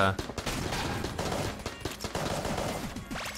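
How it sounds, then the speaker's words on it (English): The Polaris gun fires in Enter the Gungeon as a rapid, continuous volley of sharp shots, dense and steady for a few seconds amid busy game effects. "Just trying to get as many kills as possible with the Polaris"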